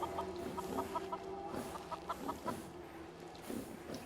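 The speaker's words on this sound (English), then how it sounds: "Damn chickens are stopping me from walking." Chickens in a Fallout 4 settlement cluck in short repeated bursts, several birds close by and fairly loud over a low game ambience, with no voices.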